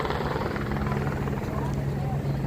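A helicopter operates near a mountain helipad in Kashmir, producing a loud, steady rotor drone with a constant low hum while people talk nearby.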